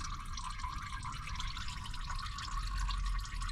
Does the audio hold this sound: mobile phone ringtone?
no